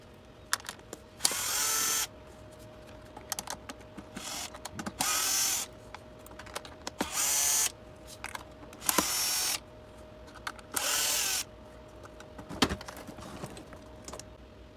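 A driver whirs in repeated short bursts, about seven, while removing screws from a Tineco Floor One S3 cordless vacuum, with clicks and handling noises in the quiet gaps between.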